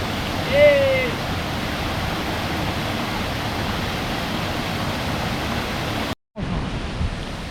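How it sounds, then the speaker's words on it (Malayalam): A small waterfall in the hills of Idukki pours as a constant rushing hiss of falling water, close and steady, with a short break near the end. "ഒരു ചെറിയൊരു വെള്ളച്ചാട്ടം"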